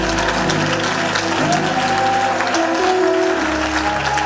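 A church congregation at a worship service applauds the Lord, with loud, sustained clapping filling the space over soft tonal music underneath.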